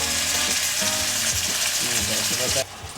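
Food sizzles and crackles steadily while frying in a pot, with occasional stirring scrapes and no talking.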